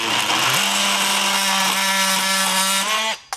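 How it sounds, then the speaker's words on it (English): A metal-cutting oscillating multi-tool cuts through finish nails driven through a door's brick mold, giving a loud, steady high-pitched buzzing whine with a pitch shift early on that cuts off abruptly near the end. "the best way to do that is with that metal cutting oscillating tool"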